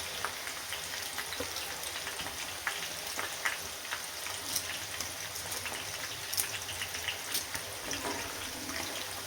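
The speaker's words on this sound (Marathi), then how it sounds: "आता आपल्याला हा आता छान ब्राऊन डार्क ब्राऊन कलर होईपर्यंत तळून घ्यायचा." Onions frying in oil until dark brown for a spice masala, a steady hiss of sizzling with faint crackles and occasional light clicks, continuous and fairly quiet with no voices.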